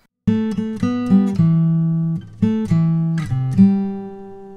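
A melody of nine randomly generated notes, played as clear pitched tones in quick succession, some held longer, sounding close and alone with no voices.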